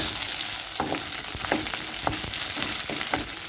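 Chana dal, urad dal and dried chillies frying in oil for drumstick chutney: a loud, steady sizzle close by, with repeated scraping clicks from stirring at an uneven pace, and no talking.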